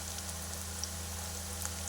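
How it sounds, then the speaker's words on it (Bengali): Onions frying in a pan, a steady soft sizzle and crackle at low volume, with no talk over it. "তো পেঁয়াজটা ভাজা হোক"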